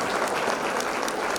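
An audience claps at a Women's Day event, a brief burst of dense, even applause from a crowd indoors that fills the moment without any voices over it.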